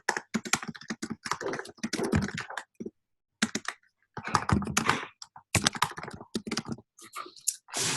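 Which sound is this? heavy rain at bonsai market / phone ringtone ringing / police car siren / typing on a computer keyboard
typing on a computer keyboard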